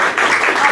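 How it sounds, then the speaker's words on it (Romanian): A brief burst of audience applause at a book launch for Gabriela Bălan, dense and fairly loud clapping from a crowd in a room, without speech over it. "Aplaudăm și pe Simeon Bordănescu."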